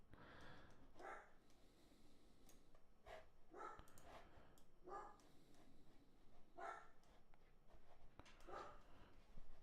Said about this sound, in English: my dog is starting to bark for some odd reason